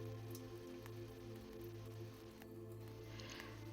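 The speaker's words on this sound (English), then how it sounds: "As the rain settles into its gentle rhythm on the glass above" Gentle summer rain pattering on greenhouse glass at night, a soft, steady patter of drops over a low ambient hum, quiet and continuous with no voices.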